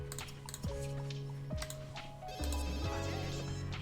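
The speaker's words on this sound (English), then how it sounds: "Oh my gosh, the phone." A phone ringing indoors in repeated melodic ringtone bursts, with soft clicks and rustling between them.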